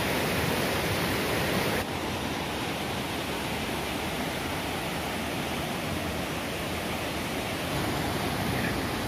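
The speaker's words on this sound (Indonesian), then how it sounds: "Ini penampakan air terjun yang bagian atasnya." Steady, full-bodied rush of the upper section of the Lembah Karaeng waterfall, loud and close, with an even roar that barely changes throughout and no voices.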